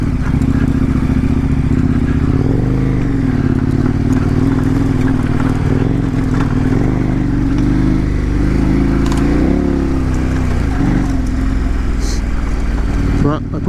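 A KTM 1090 Adventure R motorcycle rides along, its engine running loud and steady throughout with shifting revs and rumbling, plus wind and clatter, out in the desert.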